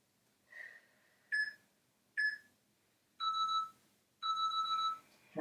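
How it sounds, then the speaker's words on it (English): A series of electronic workout timer beeps, two short tones followed by two longer ones, clear and close in an otherwise quiet room. "the double beep means we are done with this round"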